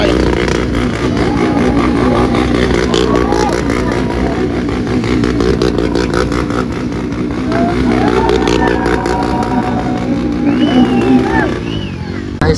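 Motorcycle engines drone and rev continuously at a stunt show at the Goa Motoverse event, where riders balance while standing on their bikes. The engines are loud and close, with crowd voices mixed in.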